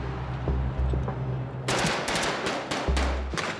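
A machine gun fires during military live-firing training with the Princess of Wales's Royal Regiment. A low engine-like rumble comes first, then loud rapid bursts of close gunfire with brief pauses between them.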